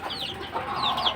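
Young incubator-hatched chicks cluck and chirp in short, thin bursts close by, with no voices over them.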